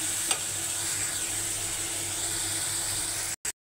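Spices with chili powder and salt sauté in a hot pan, giving a continuous close sizzle and hiss with light stirring, ending abruptly.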